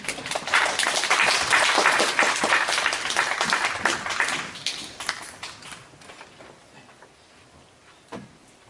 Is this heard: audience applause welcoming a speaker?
yes